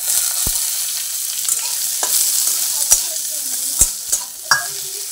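Onion and slit green chilies frying in oil with panch phoron in a pan, a close, loud sizzle broken by several sharp scraping stirs of a spatula, with no talking.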